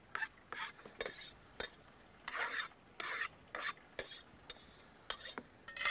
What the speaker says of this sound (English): now let's just put that in a bowl.